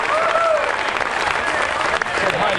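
A crowd at a high school lift-a-thon claps and cheers for a bench press lift, loud and steady throughout, with voices mixed into the applause.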